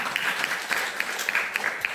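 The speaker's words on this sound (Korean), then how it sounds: "큰 박수 부탁드리겠습니다." Audience applause for a lecturer at a clinical nutrition talk: a steady, moderately loud patter of many hands clapping, lasting about two seconds with no voices over it.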